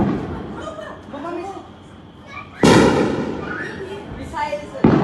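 Loud booming blasts sound in the sky over Jalandhar, two sharp bursts with rumbling tails, while excited voices and nervous laughter carry on nearby.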